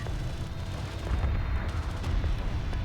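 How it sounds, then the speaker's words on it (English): Mortar fire in a real-time strategy video game, a dense rumbling barrage of low booms and blasts overlapping continuously at close range. "I love using the mortar against soldiers like that."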